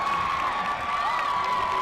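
A high school football crowd at a Broken Arrow vs Enid game roars and cheers after a rushing record is announced over the public address system, a sustained dense wall of distant cheering with a whistle-like tone running through it.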